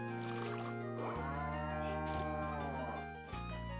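A cow moos in the farming video game Story of Seasons: Trio of Towns, one long drawn-out bovine call, loud and close, over a soft musical background.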